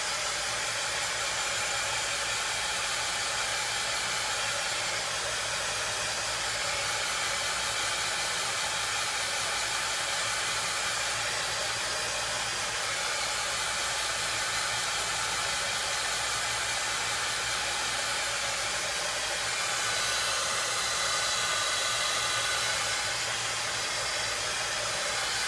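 A dryer blows a steady, loud, continuous whoosh of air while drying a craft project, with no talking and no change in tone.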